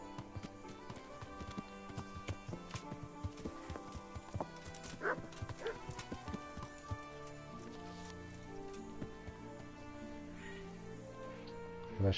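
Horse hooves clip-clop steadily in the Kingdom Come Deliverance video game, a busy rhythmic patter of hoofbeats mixed with faint background ambience and other game sounds, all fairly quiet.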